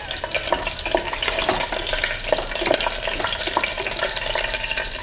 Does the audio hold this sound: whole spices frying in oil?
yes